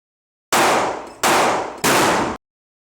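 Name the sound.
gunshots at a shooting range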